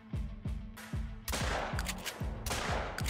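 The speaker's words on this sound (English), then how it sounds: "I'm shooting him" Rifle fire in the hunting game theHunter: Call of the Wild, a rapid series of sharp, loud shots with booming tails, about ten blasts in quick succession and no talk over them.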